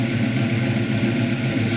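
A carbureted-era car with a Holley Sniper setup and electric fuel pump idles loudly and steadily, a dense rumbling drone with a faint high whine that may be belt noise, and no voices.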